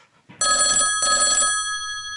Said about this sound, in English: Telephone's ringing. I hear it.